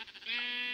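Minecraft sheep bleating in-game, a single drawn-out nasal bleat that swells after a brief rough onset and holds steady at moderate volume, alone without talk.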